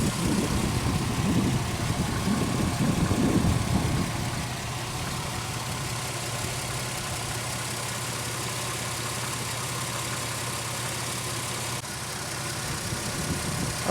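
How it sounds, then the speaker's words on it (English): A Pontiac Aztek engine with a rich-running fault idles steadily at close range, a touch rougher and louder for the first few seconds before settling into an even, continuous hum with no talking. "we're still sitting here at idle"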